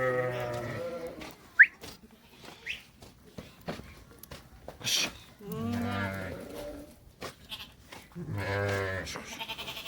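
Sheep at a livestock market bleat in several loud, drawn-out calls spaced a few seconds apart, with quieter shuffling and background noise between them.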